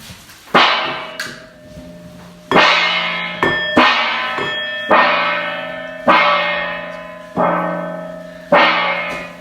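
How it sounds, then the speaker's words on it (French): A gong struck six times at steady intervals, each hit loud and close with a bright metallic shimmer that rings and decays before the next strike. "joue du gong."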